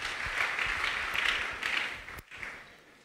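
A church congregation applauding during a worship service, steady broad clapping at a moderate distance that fades out near the end, with no talk over it.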